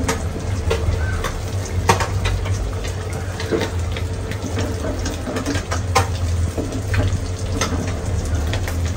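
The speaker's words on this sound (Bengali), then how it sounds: "আর এখানে মাছ ভাজা হইতেছে" Small puti fish fry in a pan, giving a steady, close hiss of sizzling oil broken by occasional light clinks of utensils.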